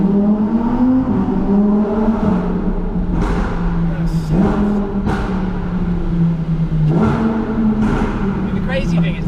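A Lamborghini Huracan Performante engine, heard from inside the car with the windows lowered slightly, holds a loud steady drone around 5,000 RPM, with several brief throttle blips and shifts layered over it.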